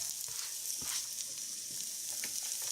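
Vegetables hitting a hot pan in a shrimp stir-fry, a steady soft sizzle with scattered crackles and light scraping taps, fairly quiet and close with no voices.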